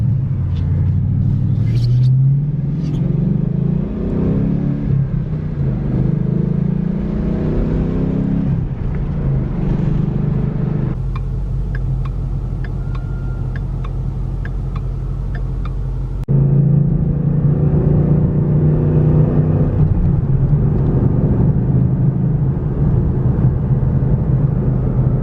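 Ford Mustang GT pulling hard on the road, a loud, near engine rumble that rises through the revs, drops briefly at a shift and climbs again, with steady road and wind noise underneath.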